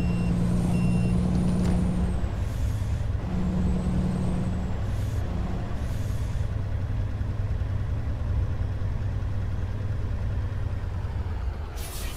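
A Kenworth T908 semi-truck in American Truck Simulator rumbles to a stop with sharp air-brake hisses and steady tonal beeps over a continuous, loud engine drone, with no one talking.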